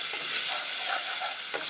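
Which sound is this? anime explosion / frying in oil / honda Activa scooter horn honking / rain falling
frying in oil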